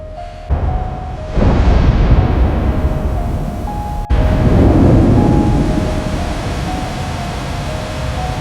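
Thunder crashes over heavy rain during a stormy night on a road. A deep rumble swells in and rolls on, and a sharp crack near the middle sets off a second loud rumble that slowly fades.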